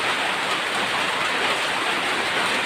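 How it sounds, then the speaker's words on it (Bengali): Steady, dense rain hisses continuously, loud and close, with no other sounds standing out. "বাইরে আবার বৃষ্টি শুরু হয়েছে"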